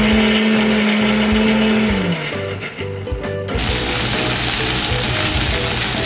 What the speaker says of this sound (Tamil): தேங்காயை துருவி அரைக்கிறதுக்கு மிக்ஸி ஜார்ல போட்டிருக்கேன்.